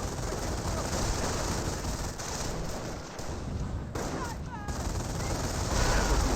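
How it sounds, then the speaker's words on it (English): Sustained MG42 machine-gun fire in the World War II strategy game Company of Heroes, a dense, continuous rattle of bursts that holds steady throughout at moderate loudness. "It actually got suppressed by this MG42 as well"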